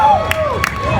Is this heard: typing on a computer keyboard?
no